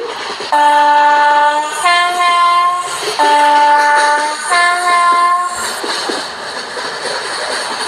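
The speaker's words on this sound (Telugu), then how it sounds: "ట్రైన్స్ ఫాస్ట్ చాలా" A fast train passes close by, sounding four loud horn blasts in quick succession over a rushing rumble that fades slightly afterward.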